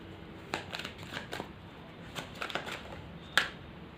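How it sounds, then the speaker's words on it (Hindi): Tarot cards being drawn and handled from a deck during a love reading: soft papery slides and flicks in a quiet room, a few light taps with one sharper snap near the end. "एक बार मैं और कार्ड्स लेती हूँ।"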